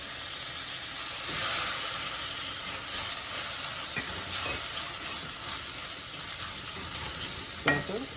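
Quinoa and mixed vegetables fry in a pan with a steady, moderately loud sizzle and hiss, broken by a few soft stirring scrapes and one sharp clink near the end.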